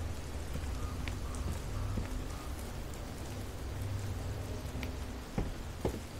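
Rain falls steadily in the horror game Fears to Fathom: Ironbark Lookout. The patter is a continuous, even wash with a few sharper drops near the end, and no one speaks over it.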